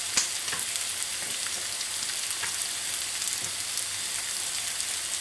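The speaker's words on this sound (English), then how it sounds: "So I'll let that sizzle for a bit" Hash browns sizzle and crackle steadily in a hot pan with red pepper flakes, a soft continuous frying hiss with occasional sharper pops.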